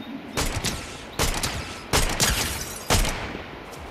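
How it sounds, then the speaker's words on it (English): Gunfire from a Zeus' Huntress DMR in a video game comes as four sharp, evenly spaced bursts of shots. Each burst rings out loud and close over faint background ambience. "People shooting over here."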